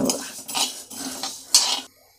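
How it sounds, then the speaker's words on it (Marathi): Cumin seeds with coriander and fennel seeds being stirred while dry-roasting in a pan for amla pickle, a series of four scraping strokes of a metal spoon against the pan, close and clear, ending abruptly. "हे बघा आता मी जिरं टाकते."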